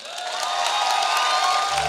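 Audience applause at a speech event in Shikohabad, a loud sustained wash of clapping with some cheering and ringing tones, swelling slightly before easing off.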